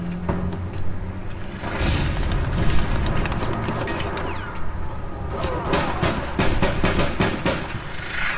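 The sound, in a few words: grenade and rocket explosion in APB Reloaded video game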